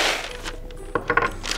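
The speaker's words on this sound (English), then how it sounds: "You're gonna add a quarter cup of kernels." Small hard kernels patter and clink in a quick burst, poured into a paper bag, fairly close and moderately loud.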